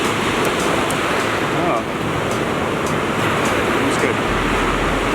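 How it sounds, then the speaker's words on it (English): Ocean waves rolling onto the shore on a winter fishing beach, a continuous loud wash of surf with wind buffeting the microphone and a brief voice in between. "the water's rolling really nicely"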